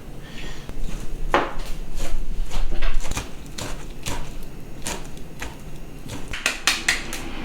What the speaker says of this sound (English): Good chopping with the shrimp. Finely chopped dried shrimp.